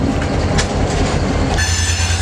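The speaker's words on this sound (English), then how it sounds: "Now creeping up behind us, what was the train we're waiting for?" A freight train creeps up from behind, loud and close, its wheels rumbling and clattering over the rails in a steady roar, with a thin, high squeal rising near the end.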